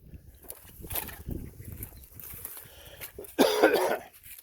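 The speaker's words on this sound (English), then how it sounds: "All the pollen has given me like a dry cough this last week or so." A person gives a few dry coughs outdoors on a ranch, followed by a louder burst of noise near the end; the sounds are sparse and fairly close.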